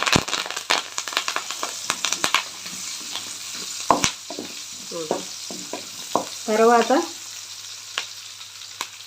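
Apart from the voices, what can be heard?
onion and curry leaves frying in a pan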